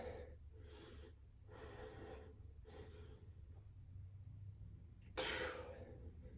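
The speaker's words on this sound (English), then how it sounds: "You're gonna be breathing a little bit heavier." Heavy, rhythmic breathing during a cardio and core workout: faint paced breaths in and out in regular bursts, then a sharp loud exhale near the end.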